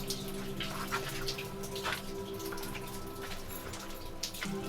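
Rain falls steadily at a high perch in the Meteora cliffs of Greece, a continuous wash of drops and drips with scattered nearer splashes over a faint low hum, no voices.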